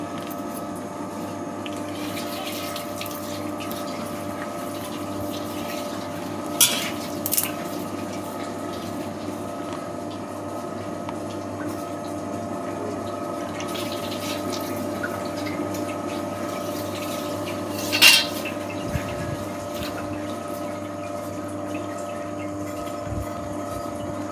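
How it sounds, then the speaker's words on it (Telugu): Two litres of sunflower oil from packets pour steadily into a pan for frying festival snacks, a continuous liquid gurgle with faint background hum and a few small clicks; no talking. "ఇందులోకి సన్ఫ్లవర్ ఆయిల్ ప్యాకెట్లు రెండు పోసుకుంటున్నానండి రెండు లీటర్లు"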